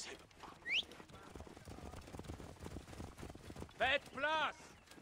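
A horse in Assassin's Creed Origins galloping with quick rhythmic hoofbeats at a moderate level, mixed with game music and effects while someone talks over it in French.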